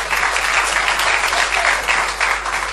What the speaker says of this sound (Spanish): Sí, pueden aplaudir.